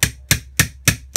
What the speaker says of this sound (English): take a small hammer and a 1/8 punch and just tap